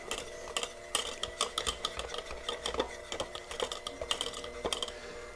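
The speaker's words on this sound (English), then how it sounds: "I'm going to take my softened butter and put it in. I'm going to give it a little mix." Softened butter is stirred in a bowl for a chocolate depression cake, producing quick, rhythmic clicking and tapping of a utensil against the bowl, close and steady with no talking.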